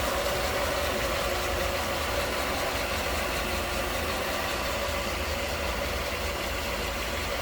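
A 1989 Mercedes-Benz 560SL convertible, stock and clean, idles smoothly and steadily at close range, giving an even, unbroken mechanical hum with no revving and no voices.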